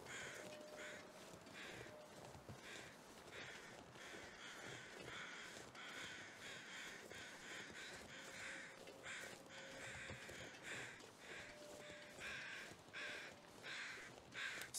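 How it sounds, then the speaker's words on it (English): Crows caw over and over in The Long Dark, the harsh calls repeating at an uneven pace, some near and some farther off, over a quiet wilderness background with no talking. "If I just let the crows fly around too, they'll keep dropping their feathers."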